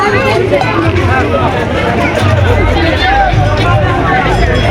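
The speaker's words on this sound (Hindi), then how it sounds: "देखियो भीड़," Thick crowd babble at a packed New Year temple fair at the Manokamana temple, many voices overlapping in a constant loud murmur with low rumbling underneath, continuous from start to end.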